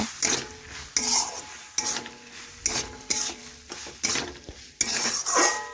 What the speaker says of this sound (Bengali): এখন এটাও ভালোভাবে নাড়াচাড়া করে একটু কষিয়ে নেব।